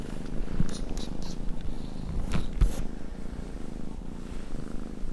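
A newly adopted cat purrs steadily and close up, a low continuous rumble with a few faint rustles and no talking.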